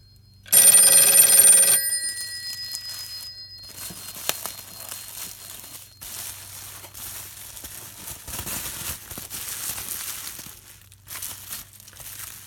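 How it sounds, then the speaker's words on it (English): An old Western Electric 302 telephone bell rings in one brief loud metallic burst, followed by crinkling, rustling handling noises and quiet clicks. "And just like that, it started ringing again."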